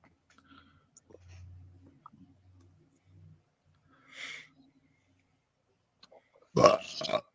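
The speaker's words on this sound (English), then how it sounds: "We need to stop burping too in the show." A man burps loudly and raspily near the end, following a quieter low belch earlier amid faint room noises and clicks during a live sports betting stream.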